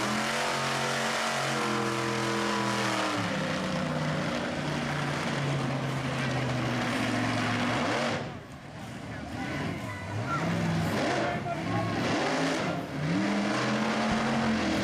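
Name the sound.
Captain USA monster truck engine roaring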